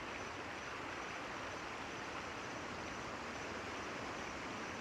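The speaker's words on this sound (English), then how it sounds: "You hear the sounds of water" Zambezi River water running through a forest: a faint, even, broadband rushing flow that holds steady the whole time without any distinct splashes or voices.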